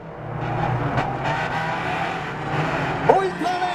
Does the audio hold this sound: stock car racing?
yes